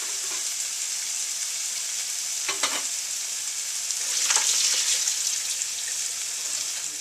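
Garlic and onion frying in a pan for a Tibetan meat and cabbage dish, giving a steady bright sizzle that lasts throughout, with a couple of brief stirring clatters and a louder hiss partway through.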